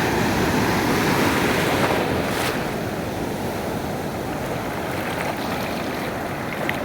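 Big sea waves surging toward shore at Cox's Bazar, a loud continuous roar of surf with wind buffeting the microphone, steady and close throughout.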